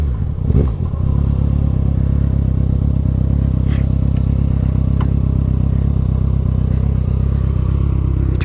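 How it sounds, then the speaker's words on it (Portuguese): Kawasaki ZX6R motorcycle with a straight pipe exhaust idling loud and close, a steady throbbing engine drone with a brief rev blip near the start and faint clinks and scrapes over it. "não sei se vocês estão notando as diferenças no barulho da moto"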